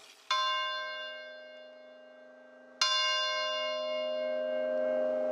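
A carillon church bell being tuned, one of 61 bells each with a different note, struck twice with a bright clang and a long shimmering ring that decays slowly between strikes.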